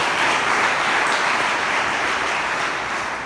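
A church congregation claps loudly and quickly together, a dense wash of applause filling the space at full volume before tapering slightly toward the end.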